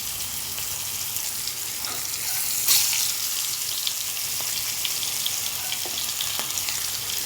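Pangas fish pieces seasoned with salt and turmeric fry in a pan with a steady, dense sizzle and crackle and a few sharper pops, heard close and alone.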